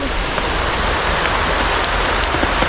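Steady rain falls in a continuous, even hiss, close and fairly loud, with scattered drops pattering on a surface and no pauses.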